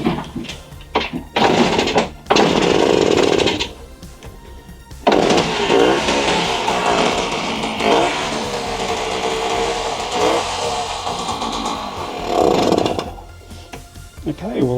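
A 1965 Suzuki K10 motorcycle engine runs at a low idle after revival, a close rough putter with stumbles and brief dropouts, mixed with clanks and a person speaking at times.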